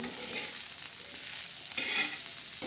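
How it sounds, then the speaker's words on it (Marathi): Crumbled wheat kurdai sizzles steadily in a pan as it is sautéed and stirred with salt and chilli, with close scraping strokes and a brief louder burst of frying near the end, and no speech. "आता हा पैकी असा परतून घ्यायचा असं चांगलं हलवून घ्यायचं"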